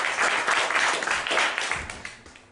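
Audience clapping fills a room at a live comedy mind-reading show, a dense sustained round of applause that swells and then gradually tapers off toward the end.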